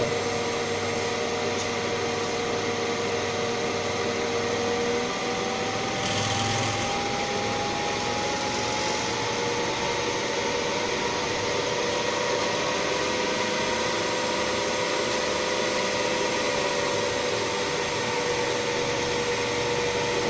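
An asynchronous electric motor hums steadily at close range under a changed load, its tone gliding upward as it speeds up over a constant whirring drone.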